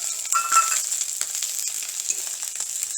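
Ground fenugreek hisses and crackles in hot oil beside frying snakehead fish, a close, steady sizzle with light stirring and no talking.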